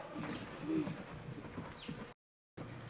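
Horse hooves clip-clop at a steady trot along the side of an indoor riding arena during a clinic, close and moderately loud, with a brief dropout near the end.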